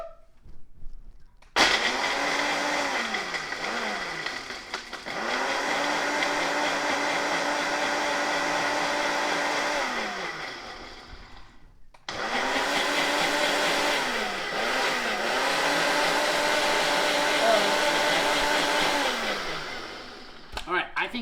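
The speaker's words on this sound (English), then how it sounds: "we're gonna blend it again until those ice cubes are fully integrated" A blender crushes ice cubes into Greek coffee, a loud close whirring grind running about nine seconds, cutting out briefly, then roaring again for another stretch with shifting pitch as the ice breaks down.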